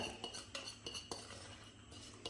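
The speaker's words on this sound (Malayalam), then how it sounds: "ഒഴിച്ചു കൊടുക്കുന്ന ടൈമിൽ നിങ്ങൾക്ക് ഇങ്ങനെ ഇളക്കി കൊടുക്കുക" Metal spoon stirring a liquid mixture in a pot while more is poured in, giving a string of light scrapes and clinks at an uneven rhythm, close and fairly quiet, with no talking.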